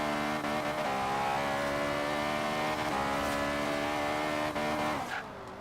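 A front-wheel-drive car in Forza Horizon 3 revs hard toward redline, a loud continuous engine roar with sustained harmonic whine and slight pitch shifts, fading at the end.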